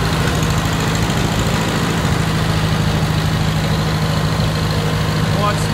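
An old tractor engine, just freed from seizure and converted to 12 volts, runs steadily at a low rumbling idle, loud and close, with a constant throb throughout.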